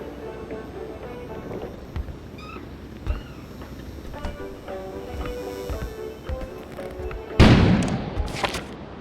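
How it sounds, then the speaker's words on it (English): An explosion bursts out near the end as a sudden loud, noisy blast with a brief follow-up burst, preceded by quieter scattered thuds and tonal effects. "An explosion suddenly occurred outside."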